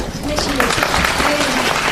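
An audience applauds at a KOTRA recruitment briefing, with dense, steady clapping that fills the room evenly from start to finish.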